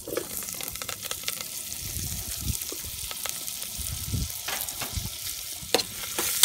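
Butter and vegetables sizzling and frying in a mussel pot on an outdoor grill, a steady close crackle with occasional stirring scrapes and louder pops.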